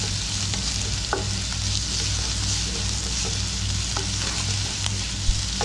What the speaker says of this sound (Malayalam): ഇതിൻ്റെ പച്ചമണം മാറുന്നത് വരെ നന്നായിട്ടൊന്ന് വഴറ്റി കൊടുക്കുക.